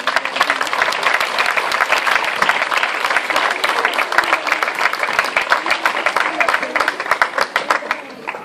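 An audience claps continuously through a flag-raising ceremony at the 2019 Barrial de Gáldar festival, producing dense, steady applause that holds at an even level from start to finish.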